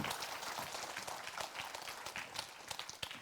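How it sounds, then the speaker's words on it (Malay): Audience applause at a Malaysian Raya debate show, a fairly faint, dense patter of clapping that holds steady for a few seconds. "Satu tepukan sekali lagi untuk mereka."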